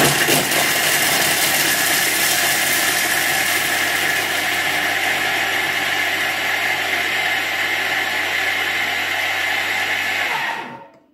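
A Thermomix grates gruyère cheese at speed 8 for ten seconds, a loud, steady whirring grind that holds level before winding down abruptly.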